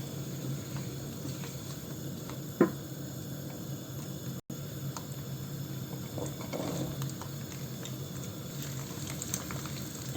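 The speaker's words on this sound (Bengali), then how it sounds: "আমি রসুনটাও দিলাম একই সাথে দুইটা আমি এখন হালকা ভেজে নেব" Garlic and five-spice seeds lightly fry in oil for an olive pickle, a faint, continuous low sizzle heard close with occasional soft taps.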